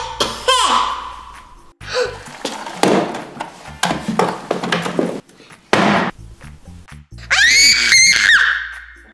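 A woman screams loudly and repeatedly in shrill bursts, some sliding in pitch, broken up by gasps, thumps and short breathy noises, with a final long piercing scream.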